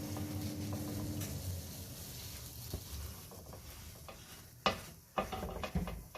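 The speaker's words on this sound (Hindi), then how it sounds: "तवा मेरा गरम है, बस एक साइड से इनको ऐसे बटर लगा के तो फ्राई कर लेना है।" Butter-coated burger buns frying on a hot griddle, a low steady sizzle at first that fades, then a few sharp clicks and taps of handling near the end, close and fairly quiet.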